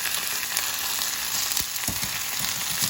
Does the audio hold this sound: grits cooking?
yes